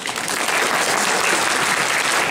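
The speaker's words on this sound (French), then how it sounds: "Voilà, vous pouvez l'applaudir." Audience applause fills a convention Q&A panel at Japan Touch Haru 2016, a dense, steady wash of clapping from a crowd that stays loud throughout with no talking over it.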